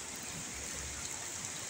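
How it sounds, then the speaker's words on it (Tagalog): Floodwater from an overflowing creek rushes past in a steady, dense broadband roar, close and continuous with no breaks or voices. "Nag-overflow ang punong so ang sapa."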